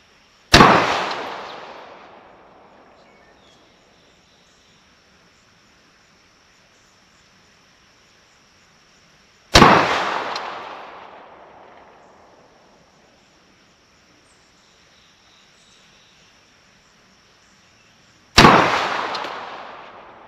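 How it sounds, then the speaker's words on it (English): Three loud rifle shots from an AR-47 firing Russian ammunition at an outdoor range, spaced roughly nine seconds apart, each a sharp crack with a long decaying echo. The gaps between shots are quiet. "We'll just keep shooting."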